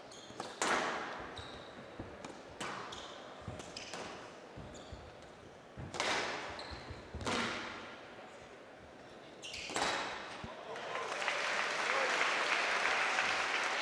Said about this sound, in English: the crowd have gone absolutely bonkers, and rightly so